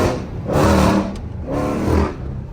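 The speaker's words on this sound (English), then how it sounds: "let y'all hear the exhaust" A Dodge Scat Pack's loud exhaust revs twice in strong, throaty bursts, rising and falling, then settles into a lower rumble, loud and close.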